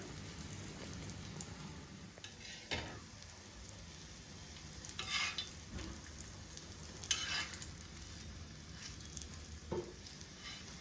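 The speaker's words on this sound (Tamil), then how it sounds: "இதே போல் எல்லாத்தையும் ஃப்ரை பண்ணிக்கோங்க" Vegetable cutlets fry in a pan with a faint, steady sizzle, broken by a few soft scraping and stirring sounds as they are moved.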